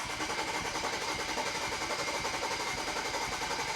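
A BMW 335i fitted with a big single turbo, its engine being cranked to prime the turbo before first startup, giving a steady, fairly faint mechanical chatter with a rapid even rhythm and no talk.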